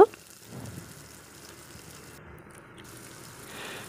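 Peanuts fry in oil with coconut in a pan for khichuri, a soft, steady sizzle and hiss that opens with a brief clink and continues quietly throughout.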